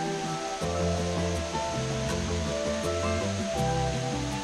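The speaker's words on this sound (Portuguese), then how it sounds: "são 20 metros de queda livre, então muito cuidado na beirada da cachoeira" Waterfall of the Ribeirão do Cafezal in Londrina, a free fall of about 20 metres, roaring as a constant broad rush of water close by, heard alone without voices.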